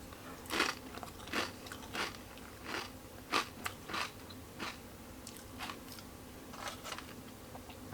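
Pita chips or pita crackers crunch between the teeth in a series of sharp, close bites spaced roughly every half second to second, each snap followed by softer chewing, with no talk.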